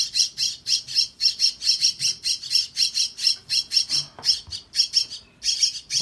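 A baby myna chick squawks in a rapid, regular series of shrill, close calls, about two or three per second, with no talk over them.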